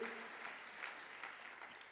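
A church congregation applauds in a dense, steady wash of clapping, faint and without a break.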